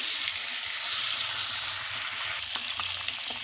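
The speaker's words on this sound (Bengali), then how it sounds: "তেল ভালোভাবে গরম হয়ে গেছে এবারে দিয়ে দেব মাছ মাছগুলোকে আমি হালকা করে ভেজে নেবো" Hilsa fish pieces sizzle steadily as they fry lightly in well-heated oil for a mustard-poppy seed dish, a continuous close hiss with a few sharper pops near the end.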